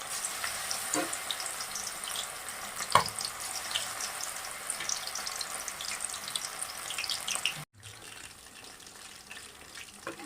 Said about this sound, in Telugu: ఆయిల్ బాగా వేడైన తర్వాత స్టవ్ని మీడియం ఫ్లేమ్లో పెట్టుకుని మనం ముందుగా మ్యాగ్నేట్ చేసుకున్న చికెన్ వేసుకుందామండి